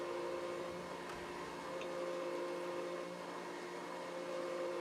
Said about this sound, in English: This vacuum cleaner here, this will distract the guard that's hidden out there